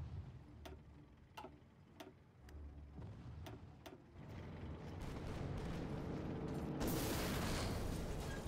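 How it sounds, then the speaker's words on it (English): Distant artillery bombardment in the Hearts of Iron IV strategy game, a series of sharp, evenly spaced booms over a low rumbling bed that thickens into a louder, denser roar toward the end. "Bombardment."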